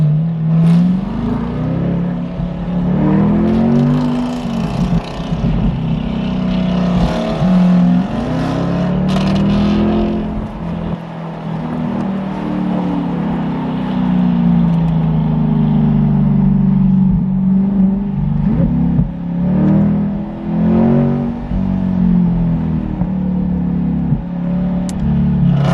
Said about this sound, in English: this is picking up the audio of the exhaust